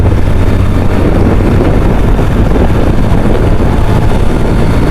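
Yamaha FZ-X Hybrid 2025 motorcycle accelerating through the gears, heard as a loud, steady engine roar with heavy wind rush throughout.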